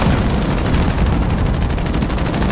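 Rapid gunfire from a big hunter gun in a shooting video game, a dense, loud burst of repeated shots running without pause through the short clip.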